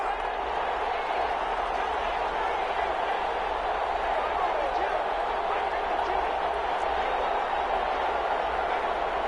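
Stadium crowd noise in the American football video game Madden 21, a constant dense roar rising during a two-point conversion attempt, steady and unbroken under commentary.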